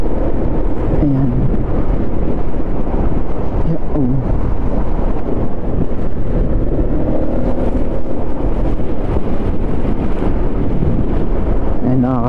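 Strong, gusting wind from Typhoon Christine buffets the microphone in a loud, continuous roar with low rumbling, while a voice speaks intermittently beneath it.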